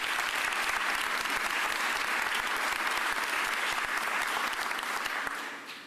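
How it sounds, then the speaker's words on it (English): An audience at a mayor's press conference gives sustained, even applause, a continuous wash of clapping that holds steady and tapers off near the end. "Harry, give Harry a round of applause"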